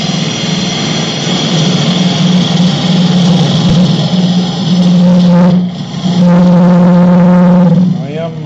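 Wood lathe spinning a workpiece for a bird feeder while a turning tool cuts, steady motor whine and buzzing with a scraping cut that shifts and breaks off; someone talks over it.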